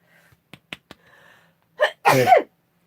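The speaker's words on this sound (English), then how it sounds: "Oh, I'm going to sneeze." A few faint breaths and small catches, then a loud, close sneeze bursting out in two quick parts.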